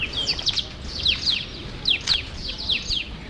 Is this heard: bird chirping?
yes